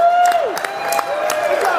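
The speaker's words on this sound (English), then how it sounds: "please give them a huge round of applause, and actually all the chefs a round of applause" A crowd at a taco cooking contest applauds the chefs, with dense clapping mixed with cheers and a rising whoop, close and lively throughout.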